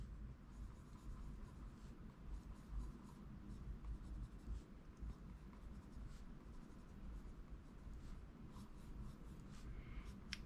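A mechanical pencil with 2B lead scratches across paper, up close and faint, in short repeated strokes that glide smoothly.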